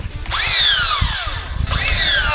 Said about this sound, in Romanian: Îmi pare rău, dar nu a mers cu flexul.